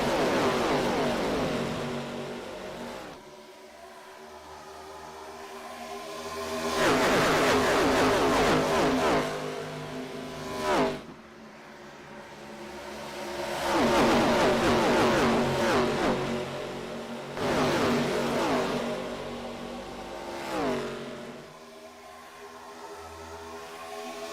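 Race cars at Charlotte in a racing video game sweep past in repeated waves of engine roar, swelling loud and fading several times as the pack goes by, with brief sharp passes in between.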